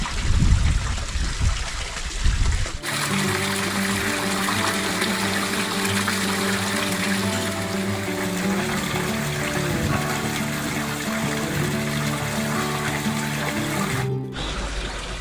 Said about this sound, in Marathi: किती मोठ्या प्रमाणात इथे पाणी वाहत आहे.